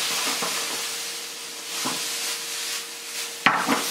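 Onions, garlic and mushrooms sweat in a pan with a steady soft sizzle and hiss, punctuated by a few stirring scrapes and a sharper clack near the end, with no talking.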